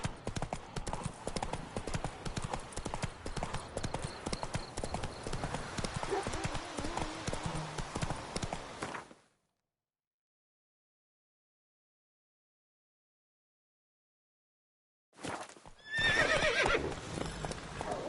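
The horse Roach gallops in a video game with rapid, rhythmic hoofbeats and neighs, loud and close, while speech runs over it. A long silent gap follows, then the galloping returns briefly.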